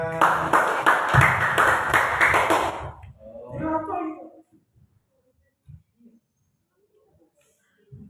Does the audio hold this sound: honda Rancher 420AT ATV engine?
no